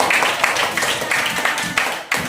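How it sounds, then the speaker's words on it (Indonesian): A classroom of students claps together after a correct answer in an Indonesian science lesson, a dense, steady patter of many hands close by that runs the whole moment without pause. "Kasih tepuk tangan."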